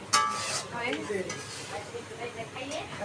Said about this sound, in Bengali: এই যে ভাগনা বউ নুডলস রান্না করতেছে আমাদের জন্য